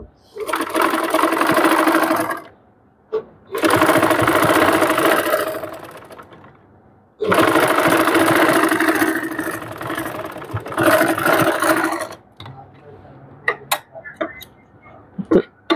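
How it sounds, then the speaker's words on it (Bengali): Sewing machine stitching a double-part blouse sleeve in close, loud bursts of running stitches, with pauses between runs and a few light clicks and handling taps at the end. "সুন্দর করে একটি চাপ সেলাই দিয়ে নিব"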